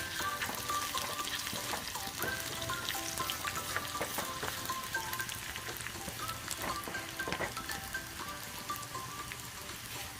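Spices fry in hot oil for a dried fish curry with mango and drumstick. A dense, steady crackling sizzle runs throughout, close and even, with scattered sharper pops.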